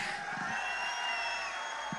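Audience at a live Raju Shrivastav comedy show applauding and cheering, a continuous wash of clapping and crowd noise with a few soft thumps, heard alone without talk.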